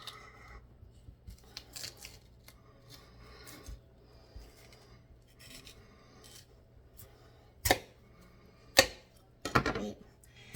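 A knife slices raw chicken breasts in half on a cutting board, soft scraping and rubbing strokes with a few sharp knocks near the end, close and quiet in a home kitchen.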